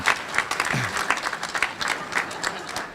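Enthusiastic audience applause, many hands clapping densely and steadily, filling the room at the Association of Arkansas Counties annual conference.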